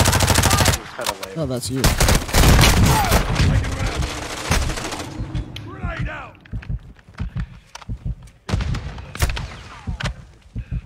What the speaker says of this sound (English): Someone shooting me.